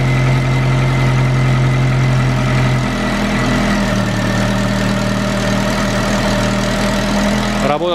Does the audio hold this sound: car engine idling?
yes